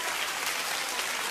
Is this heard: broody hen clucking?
no